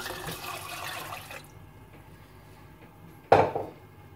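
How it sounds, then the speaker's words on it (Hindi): Water pours into a pan of red and yellow lentils for a second or so, then it goes quiet before a sharp metallic clink of cookware rings out. "दाल के साथ मैं पानी ऐड करूंगी"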